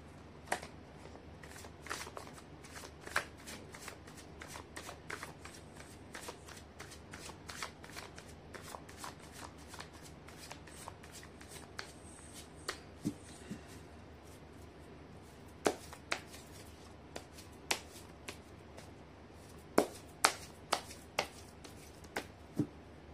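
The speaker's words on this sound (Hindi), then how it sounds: "पॉजिटिव रहिए, कर लेते कार्ड की शफलिंग।" Tarot cards are shuffled by hand close up, giving a long run of crisp riffling snaps and soft taps in an uneven rhythm, with sharper clicks toward the end and no talking.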